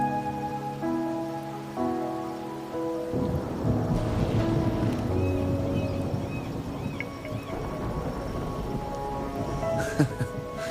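Steady rain falls in the video game Wuthering Waves, a dense hiss with low rumbling beneath, joined partway through by a soft tonal musical layer, with a brief brighter splash near the end.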